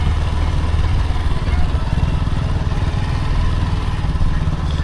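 A motorcycle being ridden, its engine giving a loud, steady, rumbling drone with some clatter throughout.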